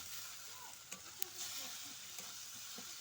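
A fish curry with vegetables and a little water is stirred in a pan, a faint, quiet sizzle with a few soft spoon taps, close and with no talk.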